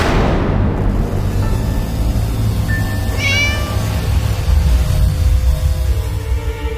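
A cat in a courtroom drama scene gives a single clear meow partway through, heard over a loud, constant background noise.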